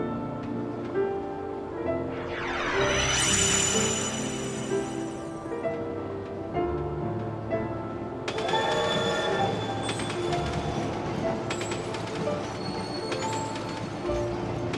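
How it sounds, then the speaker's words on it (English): A space train in Kingdom Hearts 2 rumbles along with rhythmic mechanical clatter and whistling, whooshing effects rising and falling, then a fresh burst of bright chiming motion sounds midway, loud and continuous. "It's a space train."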